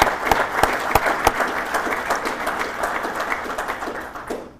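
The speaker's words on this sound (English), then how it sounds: "Please give them a round of applause for me." An audience at a building industry association awards presentation applauds nominees, with a few sharp, close claps at the start giving way to steady crowd clapping that fades out at the end.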